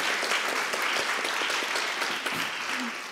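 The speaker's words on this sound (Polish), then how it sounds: "Brawa gorące." A theatre audience at a festival stage event claps continuously in dense, steady applause that fades slightly toward the end.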